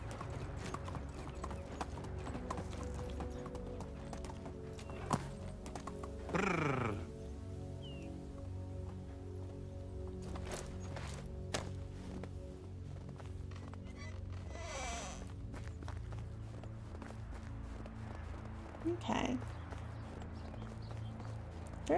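A horse's hooves clip-clop at a steady walking pace in the Medieval Dynasty video game, quiet and even over a faint ambient bed, with a few louder sweeping effects and a brief whinny-like sound partway through.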